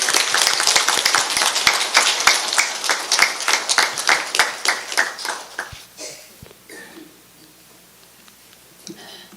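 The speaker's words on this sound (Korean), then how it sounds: "큰 박수로 법사님을 모시겠습니다" Audience applause welcoming a visiting dharma teacher at a Won Buddhist temple service, loud rhythmic group clapping that gradually thins and fades out into near silence after about six seconds.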